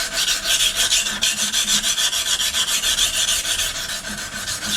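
A knife blade is ground down on one side against a sharpening surface, giving a loud, continuous rasping scrape in quick, even back-and-forth strokes, close up and with no talking.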